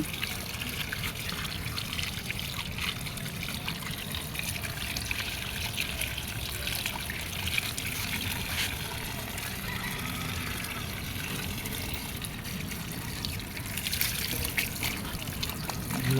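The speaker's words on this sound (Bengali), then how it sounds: "আলু তুলেছিলাম সেগুলো ধুয়ে পরিষ্কার করে নিচ্ছি" Freshly dug potatoes are washed under running water, a continuous splashing trickle with rinsing sounds close by and no pause.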